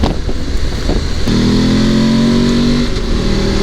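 A BMW F 850 GS Adventure 2019 motorcycle engine revs up loudly and steadily, its pitch climbing as it accelerates close by.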